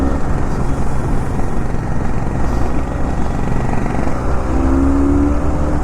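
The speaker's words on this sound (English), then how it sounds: "The exhaust note, oh my god, it's so addictive." A Benelli 502C cruiser motorcycle's exhaust note while riding: a steady, loud engine drone with a rising tone near the end, heard alone amid wind rush and with no talking.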